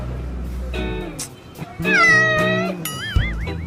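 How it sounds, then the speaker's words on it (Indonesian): A cat meows several times in rising, wavering tones, close and fairly loud, with brief low background noise between calls. "Kucing siapa nih?"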